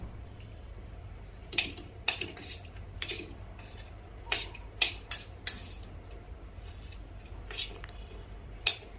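A spoon stirs panjiri flour with half a spoon of cardamom powder in a bowl for dryfruit panjiri, giving soft scattered clinks and scrapes at an irregular pace, close and quiet.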